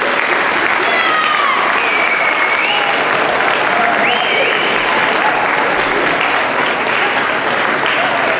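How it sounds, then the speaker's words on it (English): Students at a high school assembly turn to face their parents and give them a loud, sustained round of applause filling the room, with cheers and a brief spoken word over the clapping. "Can you turn and face your parents? They're in the room, please. And give a round of applause."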